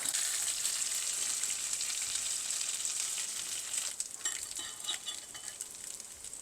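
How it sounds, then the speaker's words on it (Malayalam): Spicy prawns frying in a pan of hot oil, a loud, steady sizzle that fades slightly, with a few scraping stirs toward the end. "അങ്ങനെ നമുക്ക് അടുത്ത ബാച്ചും അങ്ങ് വറുത്തെടുത്താൽ മതി"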